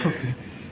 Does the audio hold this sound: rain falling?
no